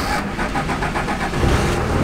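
A Cummins diesel pickup truck's engine is started with the key, turning over and catching into a rough mid-pitched running sound, close and brief, with no talking.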